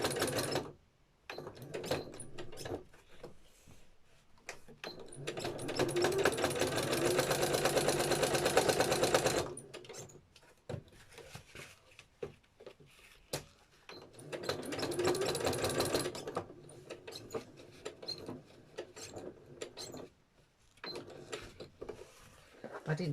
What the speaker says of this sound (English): when you're stitching around the edges. So that's the noisy bit.